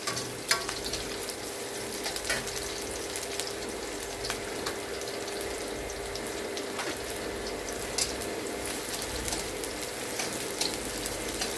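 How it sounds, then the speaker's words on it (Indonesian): Garlic and shallots fry in a pan with a steady, even sizzle and crackle, close by. Occasional scrapes and clinks come from stirring. "saya akan sesekali aduk supaya bawang putihnya tidak gosong"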